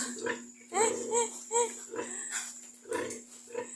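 A pig grunts in a short series of rhythmic, close snorts and oinks on a farm, with a chicken lying on its back, over a steady electrical hum.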